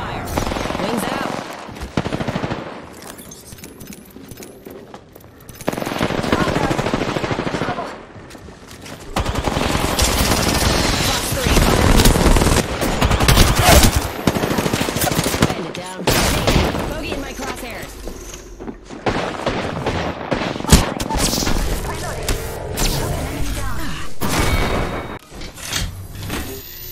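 Bursts of automatic gunfire from the video game Apex Legends break out in repeated rapid volleys, loud and close, with brief quieter gaps between the firefights.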